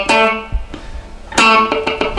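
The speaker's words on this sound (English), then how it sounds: "the specific technique that I'm going to teach you today on the guitar is how to play dead notes or muted notes" A funk guitar riff played alone and close, ringing chords broken up by short percussive muted dead-note clicks that give it a choppy, syncopated rhythm.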